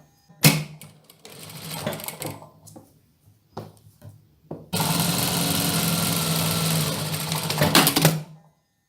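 A sewing machine stitches the armhole seam of a dress, first in short stop-start bursts, then in one long continuous whir of steady stitching before halting.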